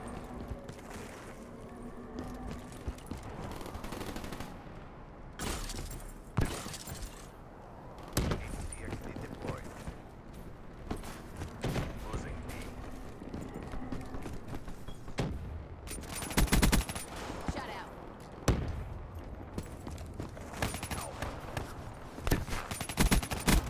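Rapid suppressed gunfire in a shooter video game rattles in quick bursts across a busy, noisy mix of clatter and impacts, with occasional louder cracks and little speech.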